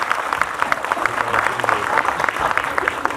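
Audience applause at a comedy show in Mumbai Filmcity, steady dense clapping filling the whole stretch with crowd noise underneath.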